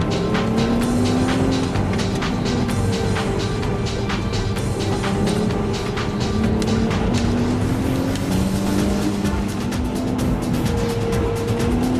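R32 and WRX four-wheel-drive cars run fast along roads with traction control on, giving a loud, continuous engine roar with rising and falling whine and some tyre noise, close by and without talk.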